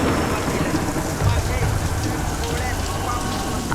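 Heavy rain pours down steadily in a film scene, a dense, loud hiss of drops on surfaces with a faint low rumble beneath, continuous from start to end.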